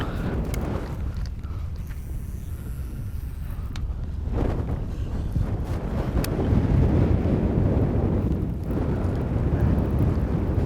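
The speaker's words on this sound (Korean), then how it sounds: "아, 바람 때문에 진짜 죽을 맛이네요" Strong wind buffeting the microphone on a lake during bass fishing from a boat, a loud continuous low roar with gusty swells and no talking.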